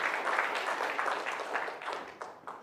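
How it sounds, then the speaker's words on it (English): Soft, distant applause from an audience, a steady wash of many hands clapping that gradually eases over a few seconds. "Give this man a round of applause."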